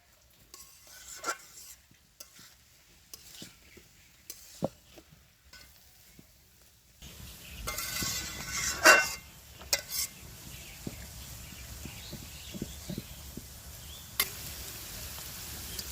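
Fish heads dropped into a pan of cooked bottle gourd and stirred, starting with sparse scattered clinks and scrapes, then a louder splash and a fuller, continuous sizzle as the mixture is turned over, with no talking.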